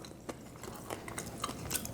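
A slice of dark German bread made from 100% rye flour, spread with butter, is chewed close up, giving soft irregular crunches and moist bites at a quiet level with no talking.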